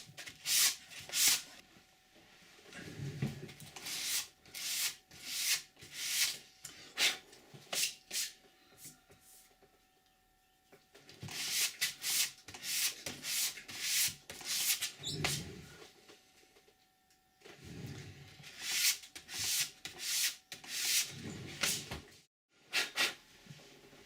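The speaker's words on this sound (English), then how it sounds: "We've cut it smooth, but we just need to now sand it down as smooth as possible." The edge of a book is sanded smooth by hand during bookbinding, giving bursts of rhythmic scratchy strokes in three runs separated by short pauses, close and moderately loud.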